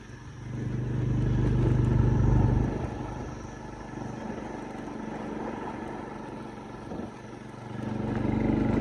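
A motorbike rides along a village road, its engine swelling to a loud near drone, easing to a steady rumble, then rising again toward the end.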